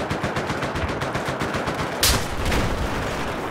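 Gunfire in the Battlefield 4 video game: rapid machine-gun bursts rattle steadily, then a louder, sharper blast hits near the middle and is followed by continued firing, with no talking.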